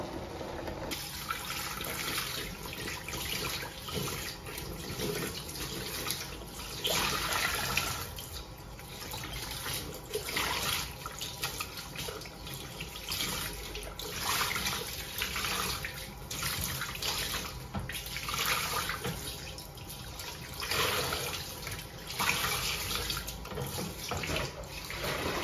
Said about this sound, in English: So I'm actually only cleaning the filters with warm water.